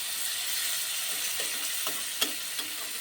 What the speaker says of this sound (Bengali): দেখুন রান্নার মধ্যে ফুট চলে এসছে